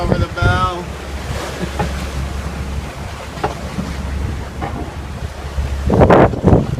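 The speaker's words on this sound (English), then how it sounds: "Woo, there's a wave. There's water over the bow." Ocean waves wash over a sailboat's bow underway, a rushing splash amid steady wind noise and a low hull rumble, with a louder surge near the end; a voice speaks briefly early on.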